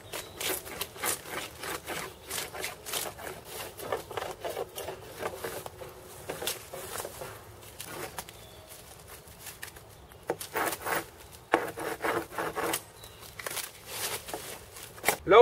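Bark is stripped from a wooden stick in repeated short, dry scraping strokes, fairly close and soft, with brief pauses between bursts.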